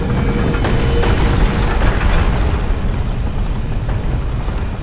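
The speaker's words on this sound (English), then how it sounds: "we're going to push this so that the balls shoot back the direction we just came one more time" Giant balls launched and rolling through Sen's Fortress in Dark Souls, a loud, continuous heavy rumble that stays dense and steady throughout, with no voice over it.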